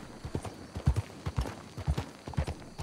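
A horse in Red Dead Redemption Online clip-clops across the ground, its hooves striking in a steady, clear rhythm of paired beats that sound close by.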